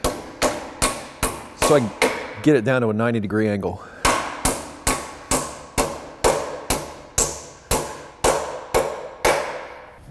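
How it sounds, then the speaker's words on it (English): Sharp metallic hammer blows ring out in a steady, evenly spaced rhythm, around twenty strikes on metal being bent in a vise, briefly paused while someone speaks. "Start bending, but I'm going to hit it with a hammer"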